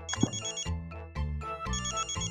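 A mobile phone rings with a bright melodic ringtone, its short tonal phrases repeating in a quick rhythm, clear and close with no voices.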